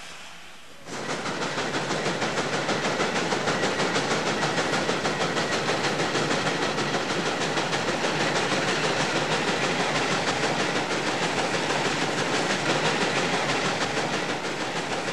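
A 1914 Nichols and Shepard 20-70 steam traction engine running, heard as a loud, steady hissing chuff with a fast, even rhythmic beat that starts abruptly and continues unbroken up close.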